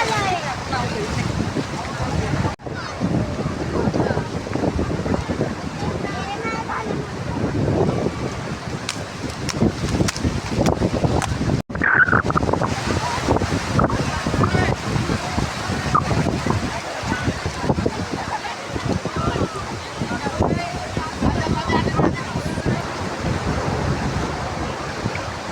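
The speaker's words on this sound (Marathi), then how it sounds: "हा समुद्र आहे." Sea waves wash onto the shore at Diveagar beach in Konkan, with steady wind buffeting the microphone; the surf roar is continuous and fairly loud, and people talk over it at times.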